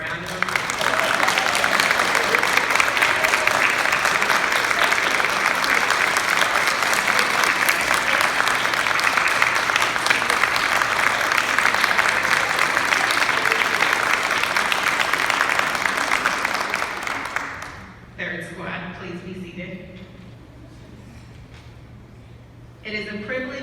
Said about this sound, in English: Would the members of 3rd Squad please stand for a round of applause?